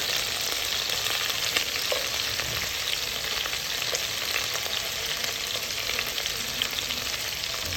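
Garlic fries in a pan for chicken tinola, making a loud, even, unbroken sizzle that holds steady throughout, close up with no voices.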